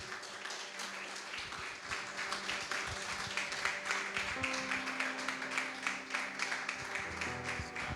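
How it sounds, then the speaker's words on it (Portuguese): Church congregation applauding steadily through a service, dense sustained clapping with cheering over a low musical drone and scattered taps. "Pastor Diogo, aplauda Jesus, igreja."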